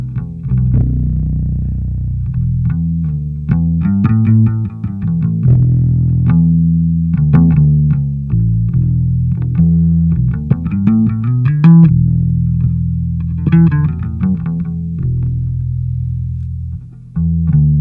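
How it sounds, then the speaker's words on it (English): A Fender Precision V five-string passive electric bass through a Warwick Gnome amp plays a run of low notes with a slightly gritty amplified tone, steady and close, with a brief pause near the end. "here we are with the Fender Precision V bass"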